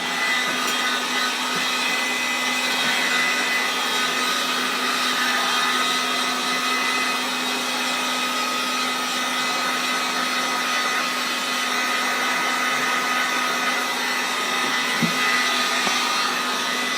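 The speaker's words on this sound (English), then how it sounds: "let's get the heat gun here. I'll dry this up." A heat gun blows steadily while drying acrylic paint at an oil painting session, a continuous loud whooshing hum with a faint low tone that holds unbroken for the whole stretch.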